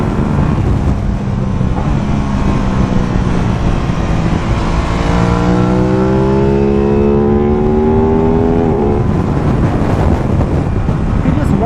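An Aprilia RS660 motorcycle engine pulls under throttle while riding, its rising, harmonic engine tone heard through heavy, constant wind rush close to the microphone.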